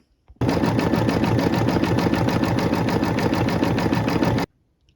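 An embroidery machine stitches a train alphabet design, running at a steady, rapid mechanical rhythm close by for about four seconds before stopping, with no voices over it.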